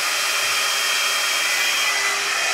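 A ghd Duet 2-in-1 hot air styler blows on hair with a loud, steady, close whooshing airflow and a high motor whine, running unbroken and with no talking.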